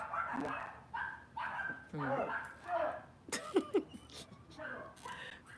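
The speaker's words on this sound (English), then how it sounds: "Y'all hear the dogs barking?" Several dogs bark and yip in short bursts at a moderate distance, mixed with overlapping voices talking.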